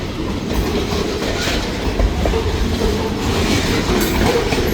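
Freight train cars led by a GP38 locomotive clatter over jumping track, a dense, loud rumbling roar with rhythmic clickety-clack wheel knocks and occasional faint squeals, heard close and continuous outdoors.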